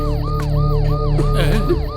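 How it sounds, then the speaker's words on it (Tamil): A loud, continuous police siren wails in repeated rising-and-falling sweeps, close by and dominating throughout, with an engine rumble beneath it. "அது ஆம்புலன்ஸ் கிடையாது, போலீஸ் சைரன்."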